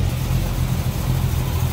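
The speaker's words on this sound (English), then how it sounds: "A little rumble coming out of that 383." A 1968 Dodge Polara convertible's 383 V8 idles with a steady, deep rumble, loud and close, holding an even low throb throughout with no talking.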